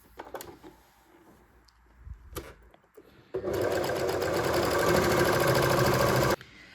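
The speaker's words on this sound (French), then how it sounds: "il va falloir surfiler en rond. Donc, on va commencer en bas, sous la manche" An overlocker serger stitches round a sleeve seam, starting under the sleeve while sewing a draped top. The motor runs as one loud, steady whir for about three seconds. Quiet handling noises come before it, and it stops abruptly.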